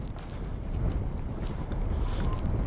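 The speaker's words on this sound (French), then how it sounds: "Là, franchement, le vent." Wind buffets the microphone outdoors at night near a large abandoned wire-drawing factory, a steady low rumbling roar with soft gusty swells, close and constant throughout.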